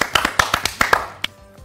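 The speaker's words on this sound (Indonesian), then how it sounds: "kita tepuk tangan ya." A short burst of hand claps in a classroom lesson, about eight sharp, close claps in an uneven rhythm that trail off, with no talking.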